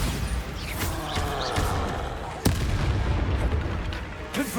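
A Bombarda spell explosion in Hogwarts Legacy, a sudden booming impact midway through a busy, loud stretch of battle noise, with a voice briefly audible.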